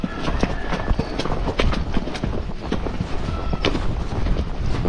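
Steady clip-clop of a Missouri Fox Trotter horse at a flat walk around a barn, hooves striking repeatedly at an even pace with some wind noise in the background.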